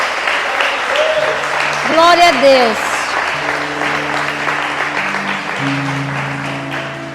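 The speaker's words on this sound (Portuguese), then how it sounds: "Aplauda ao Senhor." A church congregation applauds in dense, steady clapping throughout, with a voice calling out over it and sustained musical tones underneath.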